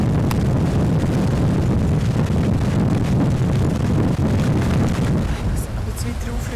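Strong wind roaring across high mountain terrain, loud continuous buffeting rumble on the microphone with gusty surges throughout and no pauses.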